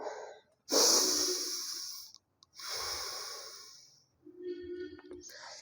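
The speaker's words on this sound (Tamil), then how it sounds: "அப்படியே நல்லா மூச்சு எழுத விடணும்" Deep, forceful breaths close up during the Marichyasana B yoga pose: a long rushing exhale, a pause, another long breath, then a softer, lower inhale, with no talking.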